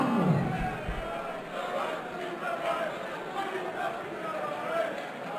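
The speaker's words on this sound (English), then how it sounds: "this capacity crowd here in the Maritime Hotel in Dusseldorf have been making plenty" A capacity darts crowd in a Düsseldorf hotel hall makes a dense, continuous roar of chanting and chatter at moderate loudness, with surges and rhythmic swells and no single voice standing out.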